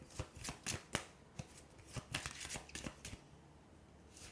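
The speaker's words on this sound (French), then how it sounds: "Je vais vous tirer, une dernière carte pour vous." A tarot deck is shuffled by hand to draw a card: quick, close papery riffles and taps in clustered bursts that thin out toward the end, with no talking.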